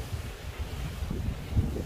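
Outdoor wind buffets the microphone in a steady low rumble throughout, rising in a few gusts, with no talking.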